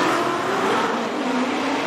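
A Corvette drift car fitted with a Borla exhaust roars steadily through a championship drift run, its loud, sustained engine note holding without a break from start to end.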